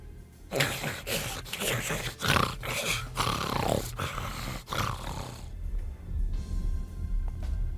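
A two-headed Cerberus guard dog in the realm of the dead in Simon the Sorcerer 4 growls and roars in long, loud, rumbling bursts, then fades out to quieter ambient tones.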